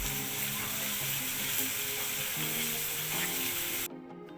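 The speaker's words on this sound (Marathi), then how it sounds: "आता ते व्यवस्थित परतून घेऊया" Onion with ginger, garlic, green chili and coriander paste sautés in a pan for veg kurma, sizzling steadily and closely throughout with faint stirring, before the sizzle suddenly drops away near the end.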